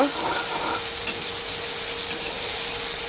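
Ginger and green chili paste is stirred into frying pabda fish in a pan, giving a steady close sizzle with faint scraping from the stirring.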